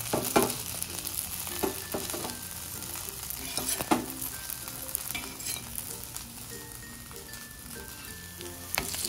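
Thin flatbreads for a quick breakfast sizzle softly in a hot pan, with a quiet, steady crackle and occasional clinks and scrapes as they are turned; no voices.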